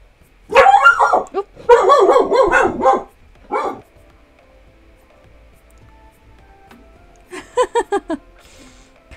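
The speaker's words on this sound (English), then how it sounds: "crazy puppy" A puppy barks and yips in sharp excited bursts, close and loud, with a pause before a final quick run of barks.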